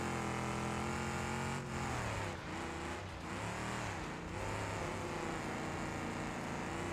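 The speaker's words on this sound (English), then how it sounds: "Hopefully you can hear the car's engines not too loud, not too quiet, but just right." Car engines drone and rev steadily in a racing video game, a loud, continuous engine hum with shifting pitch and a brief dip and surge partway through.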